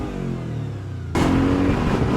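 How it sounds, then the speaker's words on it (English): An Audi RS4 engine revs hard toward the rev limiter, a steady droning note that jumps abruptly to a louder, harsher roar partway through and holds there, close and with no talking. "You're hitting the limiter, Namz."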